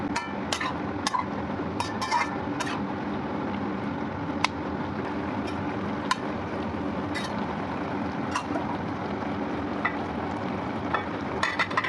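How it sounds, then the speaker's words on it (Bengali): Eggplant pieces stirred into shrimp curry in a pan, a steady sizzle under repeated sharp clinks and scrapes of the spoon against the pan, close and continuous. "বেগুনের টুকরো দিয়ে আবারও ভালোভাবে নেড়েচেড়ে মিশিয়ে দিচ্ছি"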